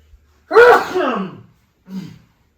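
A single loud sneeze bursts out close up, followed a moment later by a short breathy sniff or gasp.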